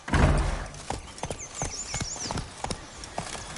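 Roach, the horse from The Witcher 3, galloping: a steady run of hoofbeat thuds after an initial burst, with faint whistling bird-like tones above.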